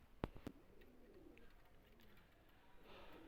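Soft cooing of Kasuri pigeons murmurs low under steady outdoor background noise, with a couple of sharp clicks near the start.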